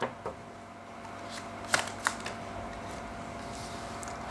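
Tarot cards are handled and laid out on a table, giving a few soft, close flicks and snaps of card stock over a faint steady background hum.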